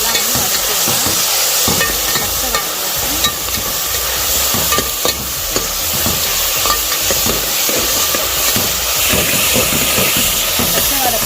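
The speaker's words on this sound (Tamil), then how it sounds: "நம்ம கொஞ்சம் இஞ்சி பூண்டு பேஸ்ட் போட்டுக்கலாம்" Ginger garlic paste frying and being stirred in a pan while cooking a quail kurma gravy, giving a steady close sizzle with repeated scraping stir strokes throughout.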